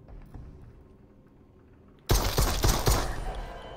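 Rapid automatic gunfire in the VR shooter Propagation: Paradise Hotel erupts suddenly after a quiet stretch, a loud close burst of fast repeated shots with sharp cracks continuing to the end.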